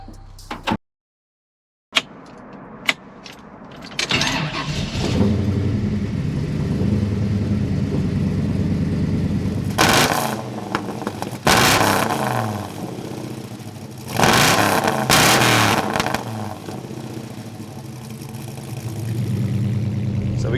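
A 1970 Chevelle SS with a 502 big-block V8 revs and pulls away, its deep rumble swelling in several loud bursts over a steady running drone, with no talk over it.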